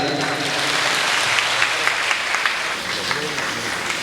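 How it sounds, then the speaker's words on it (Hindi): Audience at a poetry recital breaks into dense, sustained applause right after a poem ends, a steady wash of many hands clapping at close range for the full length. "कविता खत्म, ताली बजाओ।"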